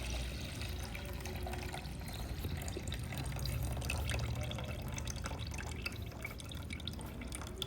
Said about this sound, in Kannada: ನೋಡಿ ನೀರು ಬಸಿತಿದ್ದೀನಿ.